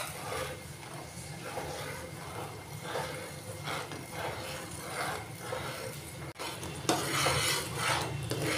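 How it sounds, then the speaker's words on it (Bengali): Mango pulp and cornflour mixture is stirred in a pot on the stove, with a steady, close, rhythmic scraping and sloshing that repeats throughout. A sharper clatter comes near the end. "আর নাড়তে থাকবো"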